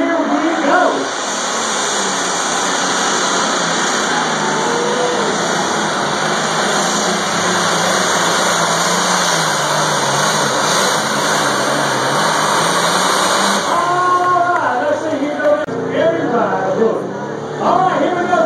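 An alcohol-fueled pulling tractor engine at a tractor pull at a state fair roars loud and steady for the whole stretch, with a high whine over it and crowd and announcer voices mixed underneath.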